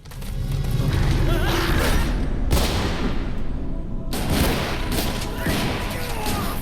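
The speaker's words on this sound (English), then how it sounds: "the gunshots you can hear when he's being torn up" Pistol shots fired by Jill in Resident Evil HD Remaster mix with heavy thuds and booming game audio, several sharp reports bursting through a loud, dense soundscape.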